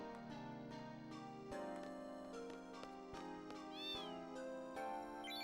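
A cat meows several times in the video game Final Fantasy VIII, the clear, drawn-out calls set against a sustained musical background.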